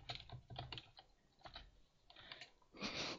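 Keys clatter on a computer keyboard as a new file is renamed, with quick irregular bursts of taps for about three seconds, faint and close, ending in a slightly louder flurry.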